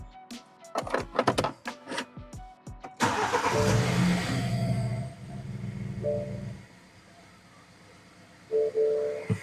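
BMW E87 hatchback, under rebuild with a freshly connected battery, cranks and starts after a few clicks, then idles steadily close by; the engine note settles before a short whirring electrical sound near the end.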